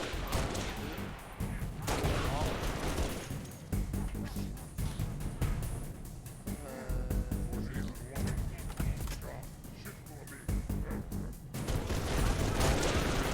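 Suppressive gunfire in the Halo video game, dense bursts of rapid shots and booms rolling on and off under game sounds, with voices talking over them.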